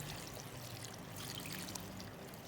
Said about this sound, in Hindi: बस इतना मैं पानी डालूँगी